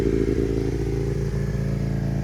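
A 2010 Aprilia Tuono 1000cc R motorcycle engine idles high and steady, a close, loud, continuous throbbing drone with slight uneven clatter and no voices.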